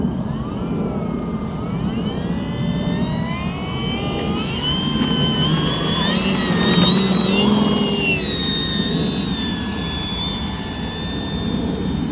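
An Avios Grand Tundra Plus RC sport plane, a 1700 mm EPO foam model, flies low trimming passes on its maiden flight, its steady electric whine rising and falling in pitch as it sweeps by, loudest mid-pass, with a constant background drone.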